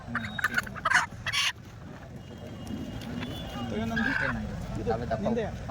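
Native country chickens cluck and gobble nearby in a rural setting, with people talking over and around the birds. The calls come as irregular bursts above a steady outdoor background.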